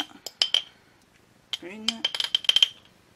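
A spoon clinks against a bowl while seeds and nuts are added, giving a few sharp metallic taps, a brief scrape, then a quick run of light clinks close by.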